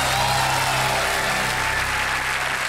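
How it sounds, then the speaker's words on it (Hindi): A studio audience on the Kaun Banega Crorepati quiz show claps in a dense, loud, continuous wash of applause that holds steady throughout. "जोरदार तालियां बज जाए एक बार फिर।"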